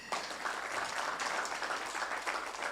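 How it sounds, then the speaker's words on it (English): Symposium audience on constitutionalism and public debt in Africa, held near Nairobi, breaks into steady applause, a thick, continuous patter of many hands clapping at even loudness throughout, without speech. "we'd like to give you a round of applause"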